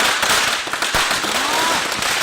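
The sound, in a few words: firecrackers bursting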